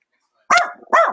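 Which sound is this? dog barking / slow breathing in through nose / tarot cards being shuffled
dog barking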